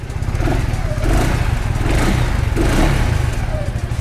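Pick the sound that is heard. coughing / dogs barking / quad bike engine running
quad bike engine running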